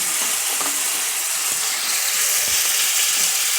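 Turmeric and chili powder sizzle and crackle steadily in a hot frying pan, a dense, continuous hiss with scattered pops and scraping clicks, close and fairly loud, with no voices.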